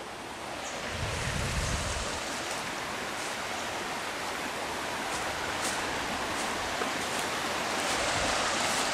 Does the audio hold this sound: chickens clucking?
no